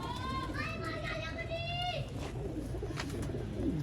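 Sialkoti pigeons, a rare A-class breeder pair, cooing in a series of soft warbling calls early on, with a voice talking over them and background chatter.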